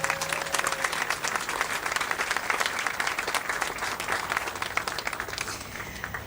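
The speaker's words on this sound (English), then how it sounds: "Let's give them another round of applause, please." At a Purple Heart Recognition Day ceremony, an audience gives veterans a sustained round of applause, many hands clapping densely and evenly for several seconds with a brief tone at the start.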